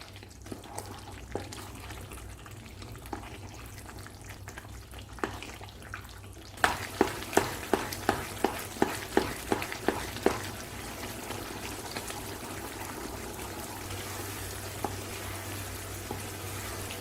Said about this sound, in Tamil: நான் கொஞ்சம் நேரம் கிளறினா போதும்.